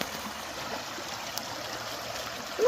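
Steady, gentle babbling of a small stream flowing nearby, continuous and even with no voices.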